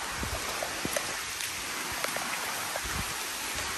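Steady rain patters on a surface, with scattered drops tapping close by against a constant hiss.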